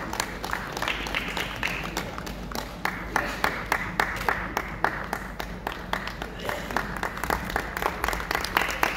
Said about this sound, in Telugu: అందరినీ గట్టిగా చప్పట్లు కొట్టవలసిందిగా రిక్వెస్ట్ చేస్తున్నాము